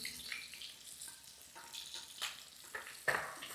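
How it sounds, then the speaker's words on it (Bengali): Fish fry in hot oil with a soft, steady sizzle and hiss, punctuated by a few louder spits and crackles as more pieces go in, close but fairly quiet, with no talking. "আর এই তেলের মধ্যে এবার বাকি মাছগুলো দিয়ে দেবো"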